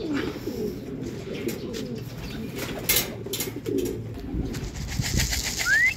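Racing pigeons in a loft during race training and pooling give repeated low, throaty coos over a busy background of soft rustling and faint chirps, with a brief flutter of wings.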